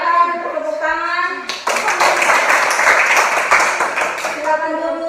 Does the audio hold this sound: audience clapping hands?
yes